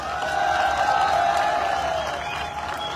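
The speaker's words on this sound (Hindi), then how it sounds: "इसके लिए आप लोगों को तालियां बजानी चाहिए" Audience at a company event breaking into sustained applause, a dense, fairly loud wash of clapping and cheering that swells and then eases slightly toward the end.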